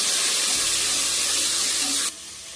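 Poppy seeds, sesame, onion and tomatoes hit a hot pan for a village-style chicken rassa, giving a loud, steady broadband sizzle that cuts off sharply near the end to a quieter hiss.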